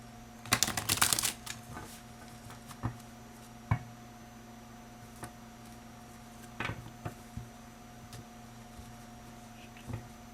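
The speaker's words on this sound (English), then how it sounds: "Shuffle a few times." Tarot cards are shuffled in one quick riffling burst near the start, followed by scattered soft taps and handling clicks against a quiet room hum.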